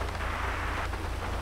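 Steady rain in GTA 5, a dense, even hiss of falling rain with a low rumble beneath, continuous throughout with no talking.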